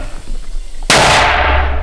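A single sharp, loud mortar blast in a combat zone at Bakhmut cuts through quiet background, followed by a sustained roaring wash of noise that slowly fades.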